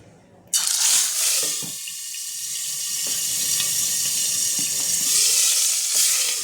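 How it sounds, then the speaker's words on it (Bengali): Pieces of boal fish drop into hot oil and set off a sudden, loud, steady sizzle that holds for several seconds with small spits and pops, with no voices. "এবার আমি মাছগুলো ছেড়ে দেবো একে একে। মাছটা একটু ঢেকে ঢেকে ছাড়বো, যেহেতু বোয়াল মাছ, এটা একটু ফাটবে।"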